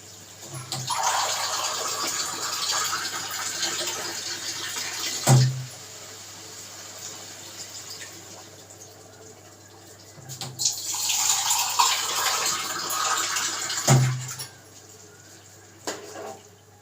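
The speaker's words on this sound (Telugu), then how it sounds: "టూ గ్లాస్ వాటర్ వేసుకోవాలి." Two glasses of water poured into a pan of simmering mushroom curry: two separate close splashing pours, each a few seconds long and ending in a sharp knock, with quiet kitchen background between and no voices.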